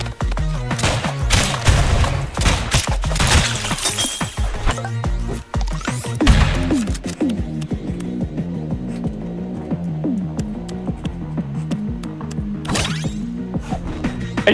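Explosive bullets firing in a video game, a loud dense burst of rapid shots and bangs that thins into a throbbing mechanical hum, with another sharp blast near the end.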